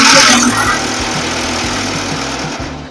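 Motor of a mobile concrete mixer running with adjustable speed, a loud rhythmic mechanical chugging with a buzzing hum, close by and steady, easing slightly after a brief louder burst at the start.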